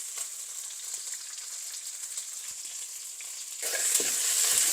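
Onion, green chilies and ginger-garlic paste sauté in hot oil, a continuous close bright sizzle that swells louder near the end as the pan is stirred.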